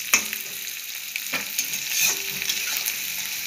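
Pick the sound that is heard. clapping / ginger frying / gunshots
ginger frying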